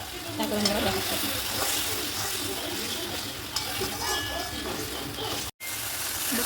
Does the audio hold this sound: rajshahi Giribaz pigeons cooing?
no